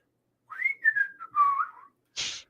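A single person whistles a short, wavering, melodic phrase of several connected notes, close and clear in quiet surroundings, followed by a brief breathy burst at the end.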